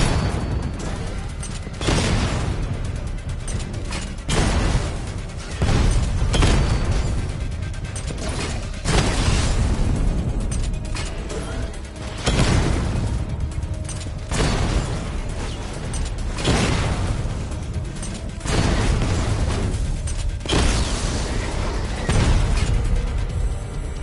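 Batmobile missile barrage in Batman Arkham Knight: a series of loud, close explosions and bursts, roughly a dozen booms spaced a second or two apart over mechanical whirring, with some talk in between.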